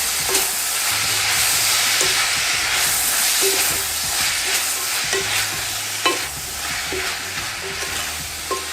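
Courgettes with Cajun seasoning are stirred in a hot pan, with a bright continuous sizzle and a regular scrape and tap of the utensil every second or so, close up and with no voices.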